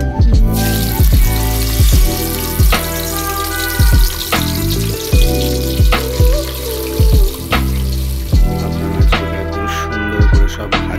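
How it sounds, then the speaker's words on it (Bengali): Pabda fish fry in oil with a loud, continuous sizzle, broken by repeated sharp knocks and scrapes from handling in the pan at an uneven rhythm. "মাছগুলোকে ভেজে নেব।"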